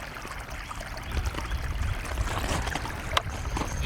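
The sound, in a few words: creek water flowing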